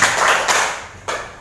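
A teacher claps out the rhythmic Indonesian 'tepuk sukses' success clap in a classroom, a few sharp claps standing out near and fairly loud, with no talking.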